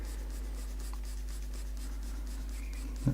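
Pencil lead sketching and shading on paper, a soft steady scratchy rubbing close up, with a small tap near the end.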